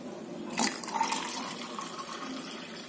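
Mint lemon juice, mixed with soda, is stirred and poured into a glass, making a close, steady liquid splash and trickle with a brief clink at the start and no talk.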